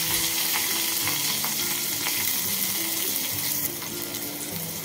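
Chopped onion sizzles steadily in hot oil with curry leaves in a covered pan, a loud continuous frying hiss with crackles, heard alone.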